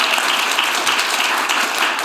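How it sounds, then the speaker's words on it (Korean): Audience applause for a professor at a Korean community symposium, a dense, steady wash of many hands clapping together, loud and continuous throughout. "우리가 크게 박수를"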